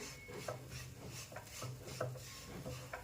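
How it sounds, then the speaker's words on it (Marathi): Jaggery being stirred into melted ghee in a pan for sesame-jaggery laddoos, a soft rhythmic scraping and rubbing of the spoon against the pan repeating roughly every half second, close and steady with no talk. "आपल्याला हे एकसारखं हलवत मिक्स करून घ्यायचं आहे"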